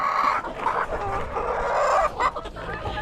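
Dekalb Brown laying hens clucking and murmuring continuously at close range, a dense, busy flock sound with no clear pauses.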